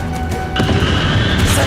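A Bombarda spell strikes in Hogwarts Legacy, a loud, dense crash that surges with a deep rumbling blast midway through the short burst.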